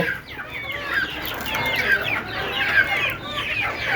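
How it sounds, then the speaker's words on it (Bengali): Young desi chickens on a rooftop cluck and chirp in a busy overlapping chorus as they are let out, close and moderately loud throughout. "আপনাদেরকে ছোটো মুরগিগুলো দেখাই ওদেরকে এখন ছেড়ে দিব"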